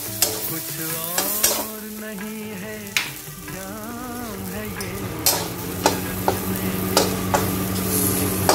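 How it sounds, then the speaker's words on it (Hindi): Moringa curry masala with coriander powder stirred in a pan, a continuous sizzle broken by repeated sharp clacks of a spoon against the pan, with a voice speaking briefly near the start. "थोड़ा धनिया पाउडर, चलाते रहो।"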